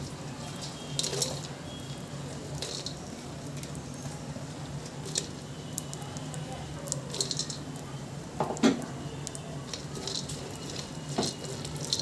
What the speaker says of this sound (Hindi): देखिए, हमारा घी गर्म हो चुका है और उसमें अपने काजू कट कर रखे हैं, उन्हें डाल देते हैं।